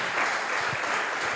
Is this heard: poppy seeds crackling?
no